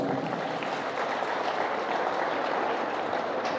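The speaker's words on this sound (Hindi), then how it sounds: "इसके लिए जोरदार तालियां बजा दीजिए।" Students in a classroom or hall give enthusiastic applause, a dense continuous clapping at steady strength throughout, close and without talk.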